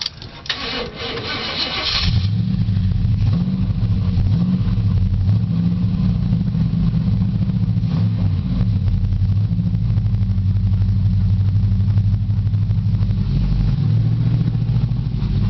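An Oldsmobile Cutlass G-body car engine cranks for about two seconds, catches, and settles into a loud, steady, close idle that keeps running without a break, with no speech over it.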